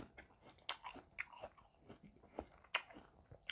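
Crisp, close bites and crunchy chewing into an imported red-fleshed apple, about half a dozen sharp snaps spread irregularly over a few seconds in a quiet room.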